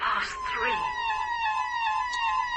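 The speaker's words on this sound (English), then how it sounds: "The sirens went at 3:30." Sirens wailing, a sustained tone sliding slowly downward with a higher rising whoop at the start, fairly loud and continuous.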